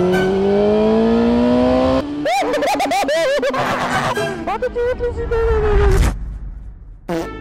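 A motorcycle ridden in the rain revs up and down through rising pitch sweeps, loud and close, with a brief pause near the end before it picks up again.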